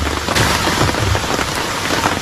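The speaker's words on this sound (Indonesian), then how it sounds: "Ini hujan lagi di pos 3" Steady rain pours on a mountain hiking trail at post 3 near Sukamakmur, Bogor, a dense close patter of drops hissing evenly throughout with no voices.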